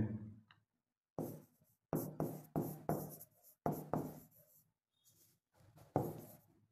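Chalk or marker writing on a board during a Marathi reasoning lesson on clock problems, heard as several short bursts of scratchy strokes with pauses between them, close and fairly clear with no talking.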